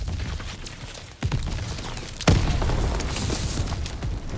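A grenade blast in the World War II shooter Call of Duty: WWII, a sharp booming burst standing out above steady battlefield noise.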